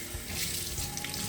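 Grits are rinsed under a running kitchen tap, water rushing steadily and loudly into the sink in a continuous hiss with no talk.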